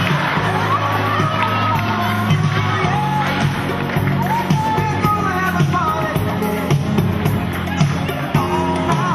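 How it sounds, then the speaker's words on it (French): A crowd at a French show of cars and stunt dogs cheers, whoops and shouts continuously over loud music and babble, a thick unbroken roar of noise throughout. "On l'applaudit bien fort, s'il vous plaît"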